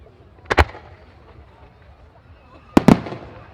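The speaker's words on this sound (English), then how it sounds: "And next, 3 5-inch red center white shells." Two sharp pairs of bursts from 5-inch red-center white firework shells at a festival display pop out of quiet crowd murmur, each a quick double crack, spaced a couple of seconds apart.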